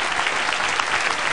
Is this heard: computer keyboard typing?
no